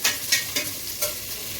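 Food sizzling and frying in a pan while coconut rice is being made, with a steady close hiss and a few soft scraping stirs, no voices.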